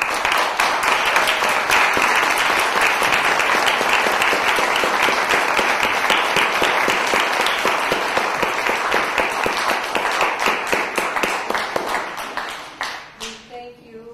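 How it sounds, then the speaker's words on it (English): A legislative candidate forum audience gives a long, dense round of applause for the candidates, steady and loud for most of its length before thinning out and fading near the end. "Why don't we applaud our candidates?"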